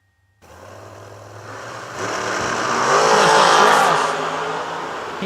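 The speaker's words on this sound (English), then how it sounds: "Small block Chevy in the dragster" Small block Chevy dragster launching and roaring down a drag strip at a race meet, the loud engine building in a rising, raspy howl that swells toward a peak and then holds, with no voices.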